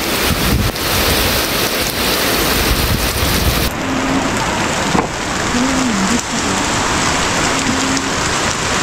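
Heavy rain from an approaching typhoon pounding on a hut, a dense, loud, steady roar of rain that eases slightly partway through, with a faint tonal whine in the background.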